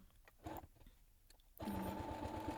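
A sewing machine stitching Velcro onto cat clothes runs with a fast, steady mechanical chatter after a few quiet taps and clicks, close and continuous to the end.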